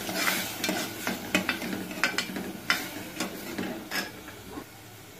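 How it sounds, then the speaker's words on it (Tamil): A spoon stirs rice and moong dal in a pressure cooker, giving repeated scraping and clinking strokes in an irregular rhythm. The sound is close and fairly quiet, with no talk. "இதை கொஞ்சம் நல்லா கலந்து விட்டுக்கோங்க."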